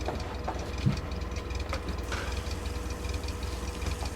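A car engine idles steadily in The Long Drive video game while running on a fuel mix with 18% oil, a quiet, low, even rumble with a slight rattle and no other sounds.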